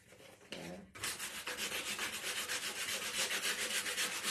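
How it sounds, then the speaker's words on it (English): Hand sanding on a wooden barn quilt wall hanging makes a brief scrape, then a steady, rhythmic, rasping rub that runs on close and fairly loud, with no talking. "Doesn't seem to want to be sanded very good,"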